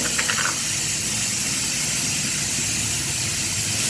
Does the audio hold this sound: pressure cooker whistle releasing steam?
yes